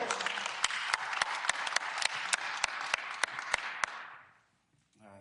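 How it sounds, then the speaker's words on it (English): Applause at a press conference, a steady wash of clapping with sharp, regular camera shutter clicks on top, fading out after about four seconds into near silence. "Let's give a big round of applause for the man standing strong for his family, Mr. Rodney Wells."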